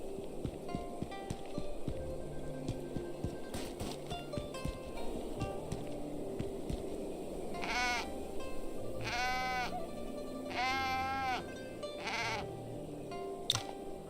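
A goat bleats in the martial arts role-playing game Wandering Sword, several wavering bleats in the second half over an outdoor backdrop of birdsong and rustling, with clip-clop hoof sounds earlier.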